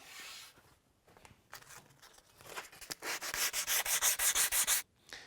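Sandpaper rubs on a rawhide-backed primitive wooden bow. A few scattered scrapes give way to a run of fast, even, rhythmic strokes, loud and close, before the sanding stops abruptly.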